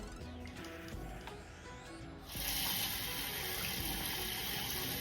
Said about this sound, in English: I shall be swirling it into the bowl, and obviously the water is filthy